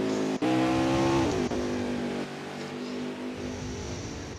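Race cars in an oval racing video game at Gateway: a loud engine drone climbs in pitch as the cars accelerate, holds briefly, then shifts down into a steady high roar of several cars running together.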